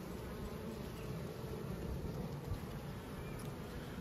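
Honey bees buzz steadily around an opened hive showing drone-layer symptoms, mostly drone brood capped, a dense continuous hum close by with no talk.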